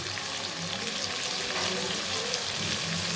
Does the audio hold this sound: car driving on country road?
no